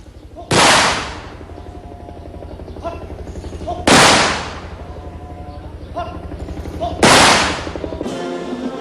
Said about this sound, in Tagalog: Sinundan ito ng 3 putok na tinatawag na Volley of Fire.